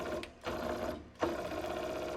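SiMagic P-HPR Neo haptic pedal shaker on a sim-racing throttle, set to 15 Hz at full strength, giving a steady close mechanical buzzing hum that briefly dips twice, resembling a running sewing machine, with no talking.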